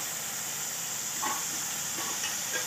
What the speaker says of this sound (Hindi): अब 1 टेबल स्पून इसमें हम ज़ीरा डाल रहे हैं